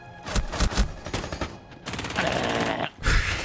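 Rapid gunfire in the video game Rainbow Six Siege, loud bursts of automatic shots in quick succession with a sustained spray in the middle and another close volley at the end.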